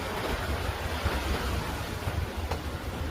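Strong ocean waves pound a shore where fishing boats have been pulled up. The surf makes a continuous loud rush mixed with gusting wind noise, with no voices.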